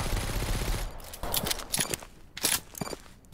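Gunfire in an indie first-person shooter, opening with a dense stream of rapid shots. It then breaks into scattered, separate bursts and single cracks, moderately loud, with no talk.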